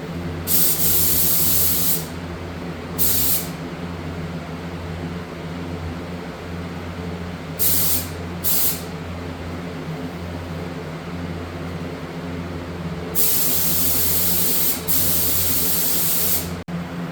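A spray gun lays a first coat of clear paint during an ATC250R restoration, loud hissing bursts starting and stopping in several passes over a constant background hum.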